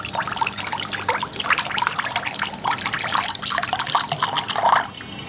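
Coconut water pours through a strainer in a steady trickle, with close, continuous splashing and dripping that swells briefly near the end.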